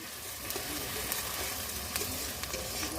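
Onion and capsicum pieces fry in hot oil, a soft, even sizzle with scattered small crackles and pops, fairly faint and without talk.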